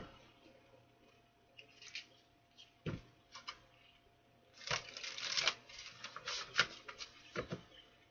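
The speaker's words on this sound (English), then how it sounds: "One more shuffle." Quiet papery riffles and soft taps of a tarot deck being shuffled, with a denser burst of shuffling in the second half, close and intimate.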